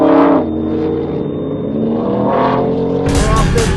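A race car accelerates hard on a track with a passenger riding along, the engine droning loud and close, then surging sharply higher near the end.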